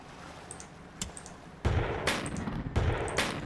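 Naval gunfire from a video game battle against a battleship: a few faint early pops, then heavy booming shots with rumbling tails, spaced about a second apart, with no talk.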